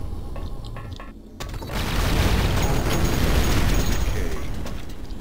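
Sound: explosions from enemy fire in video game Duke Nukem 3D

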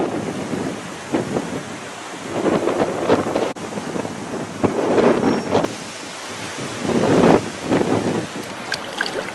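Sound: heavy rain and thunder

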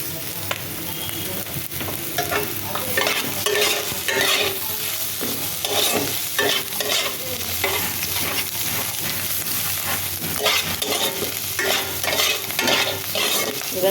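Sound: stirring chopped onion and potatoes frying in a pan

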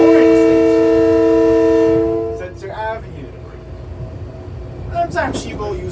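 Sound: LIRR M9 commuter train riding, heard from the front car cab

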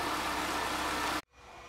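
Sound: Peugeot 207 engine idling after overhaul

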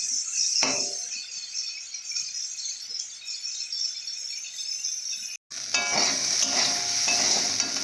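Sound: vegetables frying in pan

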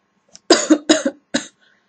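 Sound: person coughing

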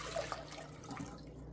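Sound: water being poured into a pot

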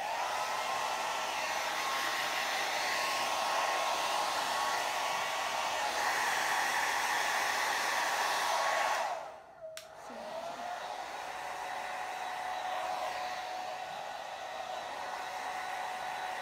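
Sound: hair dryer blow drying hair

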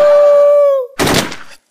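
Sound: gunfire, bullets being shot

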